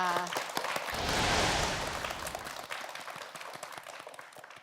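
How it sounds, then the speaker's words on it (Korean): An audience claps for two students on a televised school quiz show, a swelling round of applause that peaks and then thins into scattered claps. "두 학생 모두에게 큰 박수 부탁드립니다"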